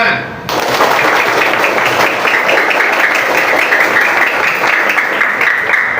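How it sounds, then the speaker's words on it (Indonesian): A crowd of schoolchildren at an anti-drug outreach event in an elementary school applauding loudly and continuously, with the claps beginning after a short pause. "Tepuk tangan."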